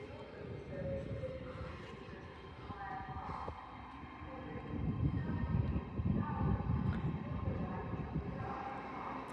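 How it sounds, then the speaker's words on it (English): An LNER Azuma train rumbles through York station on the East Coast Main Line, a broad continuous roar that swells midway, with a high electric whine over it and a voice talking in the background. "arriving in behind is another LNER Zoomer working a service from London King's Cross to Edinburgh Waverley"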